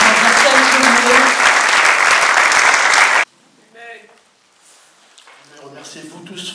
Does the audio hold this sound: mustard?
no